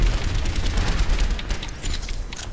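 Dense, continuous weapon fire and rumbling blasts in the video game Overwatch, a loud chaotic barrage with no clear gaps between shots.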